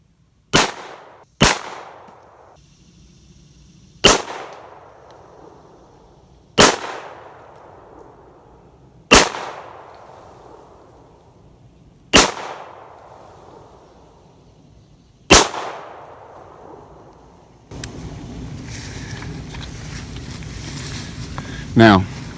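Seven sharp, loud gunshots fired with Winchester USA Forged ammunition at a shooting range ring out one by one at uneven intervals, each leaving a short decaying echo, before wind or handling noise takes over.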